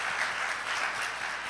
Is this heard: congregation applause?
yes